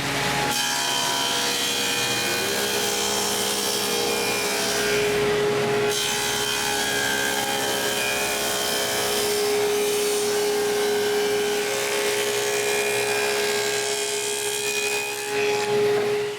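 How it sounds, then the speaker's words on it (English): A table saw cuts dados across cedar planks for a patio table, a loud steady whine with rasping wood-cutting texture that runs continuously, with a shift in tone partway through. "I need to cut some dados to hold the table planks"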